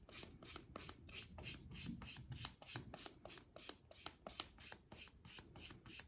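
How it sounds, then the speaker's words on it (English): A nail buffer rubs back and forth across a dipped, powder-coated nail in quick, steady strokes, a close, dry rasping scrape repeated about three times per second. "so I will just buff it."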